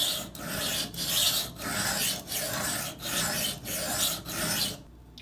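Steady, rhythmic rasping strokes of a Cold Steel Recon 1 knife blade drawn across a sharpening stone during tip repair, close and fairly quiet, about seven even passes with brief pauses between them and no voices.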